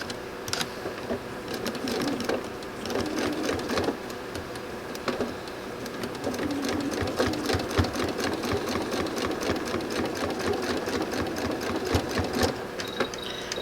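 A sewing machine runs steadily while stitching two quilt fabric pieces together, its rapid mechanical whir holding nearly constant for the whole stretch with a few brief pauses and faint handling noises.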